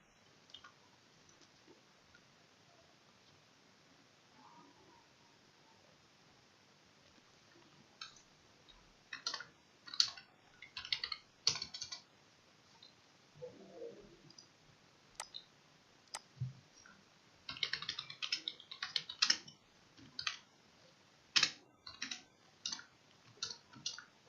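Computer keyboard typing in a quiet room, scattered soft clicks in short bursts, sparse at first and denser in the second half, fairly faint and close, with no talking.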